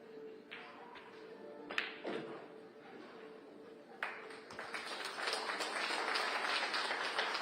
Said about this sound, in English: And generous applause from the crowd here in St. Louis